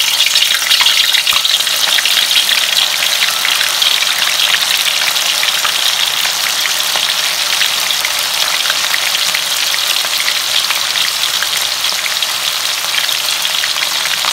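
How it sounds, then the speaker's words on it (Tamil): Tofu frying in hot oil, a loud, steady, dense sizzle that runs without a break and with no voices. "எண்ணெய் காஞ்சிருச்சு, தவ்வை முத பொரிச்சிடுவோம்."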